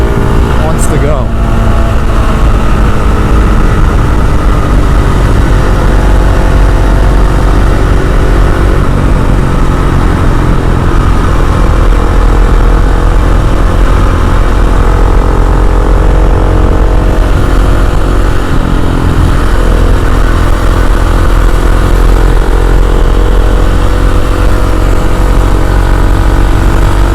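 A KTM 690 SMC R supermoto's single-cylinder engine revving hard through the middle of the rev range, loud and close with constant wind-buffeted roar throughout.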